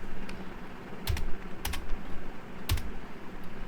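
A few separate key presses on a computer keyboard sound close and crisp, sharp clacks spaced irregularly against a quiet room background.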